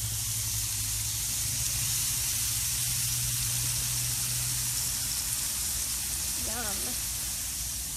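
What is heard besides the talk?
food searing and sizzling while cooking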